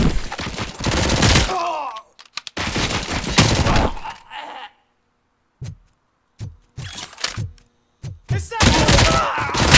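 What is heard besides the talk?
gunfire in RoboCop: Rogue City video game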